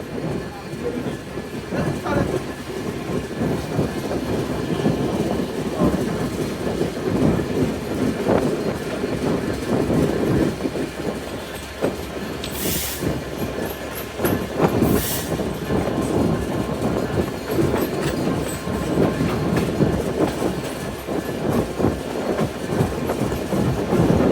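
Riding aboard the Intercity Ruposhi Bangla Express on the Padma Bridge main line through Gandaria railway station in Dhaka: a steady, close rumble with clickety-clack of wheels on rails and brief high wheel squeals partway through.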